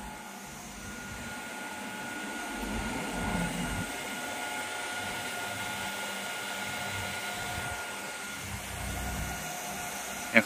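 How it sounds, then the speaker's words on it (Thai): Cooling fan of a 1400W angle grinder, previously faulty, runs with a steady, close whirring hum that holds level throughout, ending with a small click. "ตอนนี้พัดลมทำงานแล้วนะครับ"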